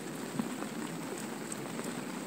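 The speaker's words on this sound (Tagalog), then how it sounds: "Ang ulan dito sa ispat, oh." Steady, heavy rain hisses down at a fishing spot during a typhoon, a dense, even wash of noise with scattered drop patter and no voices.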